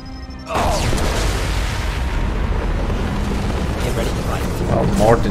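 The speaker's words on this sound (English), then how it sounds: "Warden was a bit in the way of the explosion" A loud explosion in the video game Mass Effect 2 bursts in suddenly and holds as a dense, sustained roar of rumbling debris, with faint game sounds at the edges.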